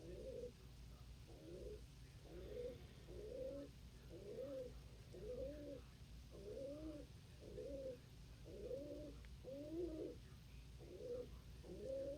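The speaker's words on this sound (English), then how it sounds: "I hear that coo. I hear that coo. There is a coo back there." Dove cooing in the background, a long regular series of soft, low repeated coos at an even rhythm, faint and somewhat distant over a low steady rumble, no talking.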